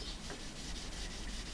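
A Scotch-Brite abrasive pad rubs back and forth over pitted metal, producing a soft, continuous scratchy scouring close by with no voices.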